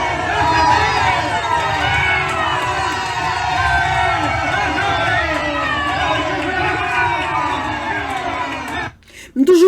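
A large crowd cheers and shouts loudly and continuously, with layered voices rising together, before the noise cuts off abruptly near the end.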